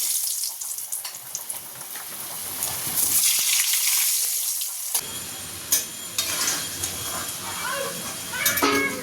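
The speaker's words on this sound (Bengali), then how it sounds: "আলুগুলো ভেজে নেব" Potatoes fry in hot oil seasoned with salt and turmeric in a kadai, a steady sizzling hiss with stirring and scraping noises and brief watery bursts, heard alone at moderate level.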